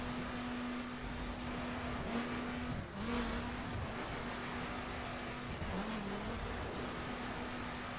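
A car in The Crew 2 racing game drifts with a steady droning engine and a continuous tire squeal, punctuated by brief shifts and screeches, loud and close, with no talk.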